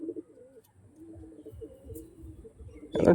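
Pigeons at a loft give soft, low cooing in a steady murmuring run, fairly close, with a brief louder flutter or rustle right at the end.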